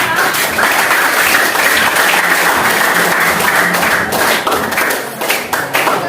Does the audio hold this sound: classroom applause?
yes